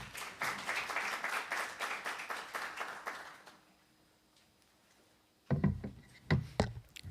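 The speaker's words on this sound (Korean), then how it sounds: "박수로 환영해 주시기 바랍니다" Applause from a conference audience greeting a session moderator at an e-learning event in Korea, a dense burst of clapping that fades out within a few seconds, followed by a short pause and then scattered nearby knocks or handling noises.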